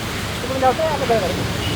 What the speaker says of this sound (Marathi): आता पाऊस खूप जास्त पडतोय ना